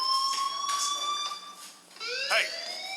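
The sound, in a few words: fire alarm ringing in video game Life Is Strange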